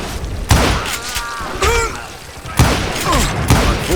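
Shotgun blasts in the Western shooter Call of Juarez: Gunslinger: four loud, booming shots about a second apart, with quieter game sounds in between.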